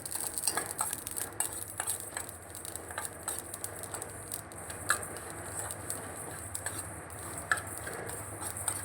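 Mustard seeds being stirred in a hot pan with the gas turned off, with soft scraping and light crackling patter throughout, a few sharper ticks standing out.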